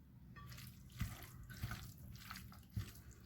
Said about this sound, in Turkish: Ellerimi yıkayacağım şimdi.